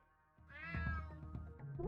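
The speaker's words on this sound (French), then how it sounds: "Damn cat." A cat in the video game Unmetal lets out a drawn-out, clear meow that rises and falls, followed by low rumbling game sounds.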